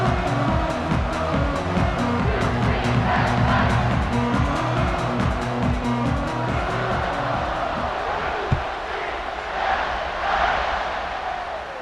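Stadium crowd in College Football 26 roaring steadily as the home fans get ready for a kickoff, a broad sustained wash of cheering under a low rumbling hum, easing slightly near the end.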